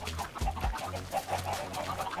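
Chickens clucking in Minecraft, a whole flock gathered together: soft, scattered clucks and short calls repeat irregularly at moderate loudness, with no speech.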